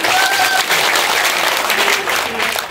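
An audience at a community convention with a magician's stage show claps loudly and continuously, a thick, even wash of many hands throughout.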